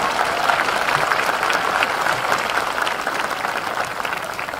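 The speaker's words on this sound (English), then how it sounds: "Go ahead, you can clap." A graduation audience claps steadily for the whole stretch, a dense, even wash of many hands at moderate loudness with no talk on top.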